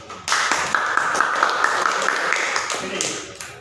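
Students in a classroom break into brisk, rhythmic applause that begins suddenly and carries on for about three seconds with sharp individual claps standing out, moderately loud and nearby.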